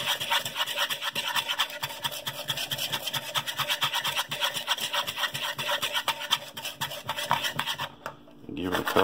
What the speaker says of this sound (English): You want to get it really mixed in there with the whisk to get all those different spices